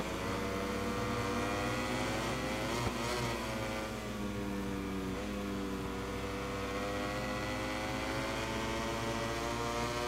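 A Ducati motorcycle screams through a racing lap in MotoGP 21 at the wet Jerez track, its engine note sustained and droning with rising and falling pitch as it shifts, heard alone without commentary.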